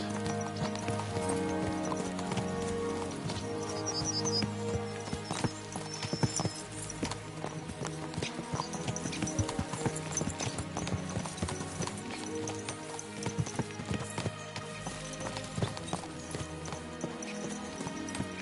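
Horses gallop continuously in a video game, their hooves pounding in a rapid, rolling rhythm, with occasional whinnies over the steady clatter.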